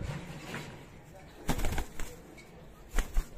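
Pigeons, including costly feather-footed birds, flapping their wings in short bursts: two or three quick clattering flurries close by, separated by quieter stretches, with a voice faintly present.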